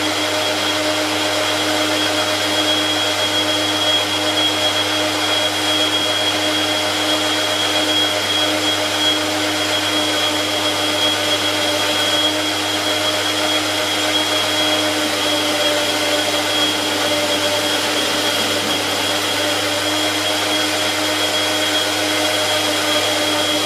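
A milling machine turns a gear blank down to its outside diameter, giving a loud, steady machine whine with a constant motor hum that runs unbroken and without talk.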